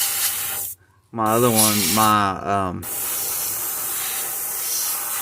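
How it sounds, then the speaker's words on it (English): Master G25 airbrush spraying paint onto a large mouth bass pattern, a steady close hiss that breaks off briefly and then runs on continuously, with someone talking over part of it. "I'm still using my Master G25 airbrush"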